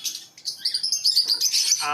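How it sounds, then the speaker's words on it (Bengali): Many small caged birds at a bird shop in Murshidabad chirping, a dense, loud flurry of rapid high tweets close by, with brief wing flutters. "আমাদের নিচের দোকানেও আছে প্রচুর পাখি সব হেলদি কন্ডিশনের পাখি"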